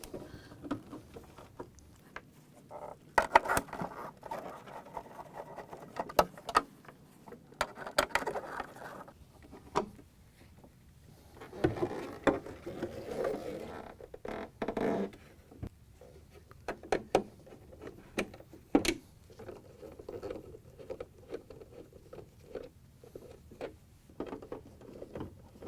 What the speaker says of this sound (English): You can remove all the screws with a 1/4-inch nut driver.